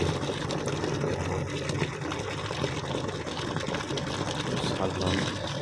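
A semi-automatic washing machine churning clothes in water, a steady loud whirring motor with sloshing and gushing water throughout, no pauses.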